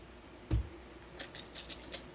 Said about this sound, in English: I don't have the right scissors, that's why it's not cutting so good.